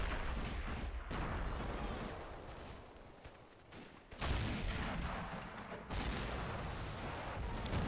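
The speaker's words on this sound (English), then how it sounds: "I think we might see a second shell go out any second now." Artillery shells fire and slam into targets during a video game siege battle between US Marines and a French citadel stronghold, heavy rumbling booms and crashes filling the whole stretch, with a sharp loud impact near the middle and another burst later.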